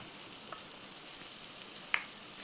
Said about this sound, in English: I've put it on simmer right now